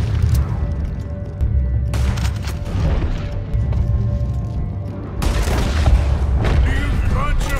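Gunshots in Red Dead Redemption 2 come as heavy booming bursts in several waves, loud and close, with talk mixed in.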